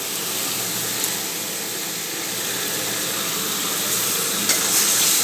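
Grated Fazli mango frying in a pan for a sweet-sour mango dish, giving a steady broadband sizzle and hiss throughout with a few faint clicks, close and continuous, no talking.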